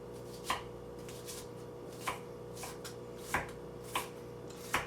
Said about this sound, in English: So, we're just gonna kind of chop that up.